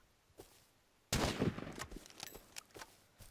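Rapid gunfire from the video game Rust, a sudden close burst of shots followed by scattered further reports and faint footsteps.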